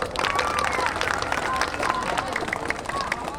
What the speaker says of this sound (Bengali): বাচ্চারা, তোমরা একটা জোরে হাততালি দাও।